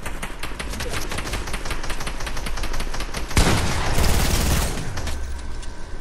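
Rapid automatic gunfire in Fortnite crackles in dense, loud bursts, swelling into a heavier, noisier volley midway before easing off.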